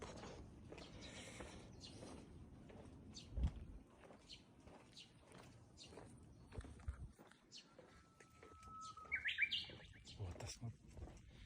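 Birds chirping outdoors near a well-known temple on a rainy day, scattered faint tweets with one clearer burst of song, over low background sound and a soft thump.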